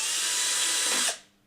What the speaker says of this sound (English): I'll just drill out these